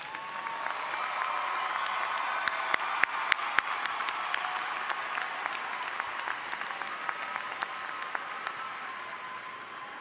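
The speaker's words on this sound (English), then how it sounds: "let's have another round of applause for College of Nursing." Sustained applause from a large crowd at a university commencement ceremony, steady clapping throughout with a few sharper individual claps standing out.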